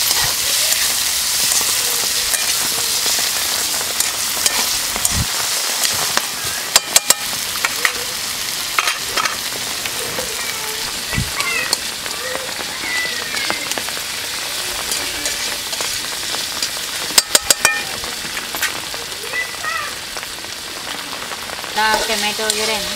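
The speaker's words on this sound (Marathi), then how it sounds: "तर आपण ह्यामध्ये घालूया टमॅटो सुद्धा आपल्याला पूर्ण मऊ होईपर्यंत परतून घ्यायचं" Tomatoes sauté with garlic in a hot pan, giving a loud, steady sizzle broken by the scrape and clatter of stirring throughout, with no voices.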